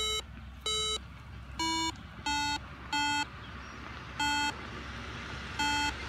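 MD-3010 II metal detector sounding repeated electronic beeps as it picks up iron, about eight short tonal bleeps in an uneven rhythm, clear and close over faint background hum.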